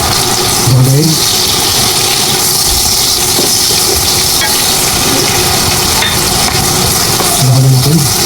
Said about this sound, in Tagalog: At atin pong igigsa natin pong sibuyas at bawang.